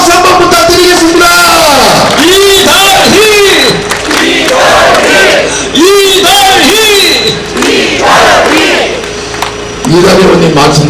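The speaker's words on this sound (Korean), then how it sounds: "큰 박수 한번 부탁드리겠습니다" A crowd at a South Korean local election campaign rally in Yeongdeok shouts and cheers loudly and continuously, with rising and falling voices through the whole stretch.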